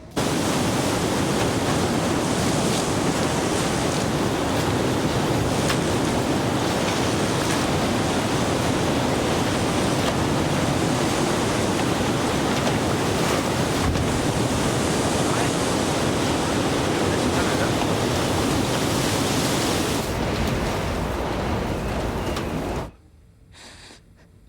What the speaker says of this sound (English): I love to hear the wind at night.